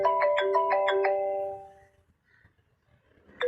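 A mobile phone ringtone plays a quick run of bright repeated electronic tones, fairly loud and near, then fades into quiet room noise. It starts again at the very end.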